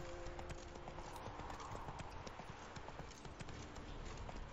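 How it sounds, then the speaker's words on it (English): Horse hooves clip-clop steadily in The Witcher 3, a continuous rhythmic trot under a game soundscape, moderately loud and close, with no talk. "Whoa there, Roach"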